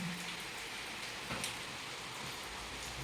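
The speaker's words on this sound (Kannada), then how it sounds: "ಭಾಳ ದಿನ ಆಗಿತ್ತಲ್ಲ ಮಳೆ ಹಿಂಗೆ ಬರಲಾರ." Rain falls steadily, an even, dense hiss of drops with no gaps throughout the short stretch.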